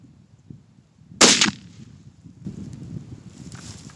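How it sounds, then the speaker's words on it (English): A Traditions Vortek muzzleloader fires a single loud, sharp shot at close range, with a brief ringing decay, then quiet outdoor ambience. "we'll shoot it clean and see if it hits close to the same spot"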